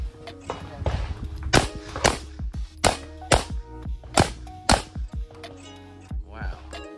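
Rifle shots at outdoor shooting training in Homestead, Florida, a string of about ten sharp, loud cracks at uneven intervals, with voices talking between them.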